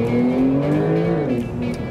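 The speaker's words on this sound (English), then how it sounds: "I would love to demonstrate the sound, but even accelerating like this" A Porsche 911 Turbo S Lightweight accelerates hard, its engine note rising loud and close in a sustained, climbing roar with no talking.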